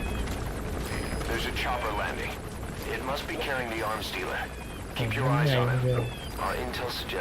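A helicopter landing in a video game, a low rotor rumble and thumping beneath game dialogue and effects, steady and fairly loud, with a voice talking over it.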